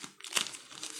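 The plastic cover holding budget Varni UH 12 earpods is opened during an unboxing, with a few short, close crinkles and one sharper rustle of thin plastic.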